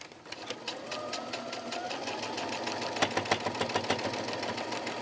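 Sewing machine stitching through a tube of faux fur for a winter muff, a steady fast mechanical run of needle strokes that grows slightly louder and more pronounced partway through, close and alone.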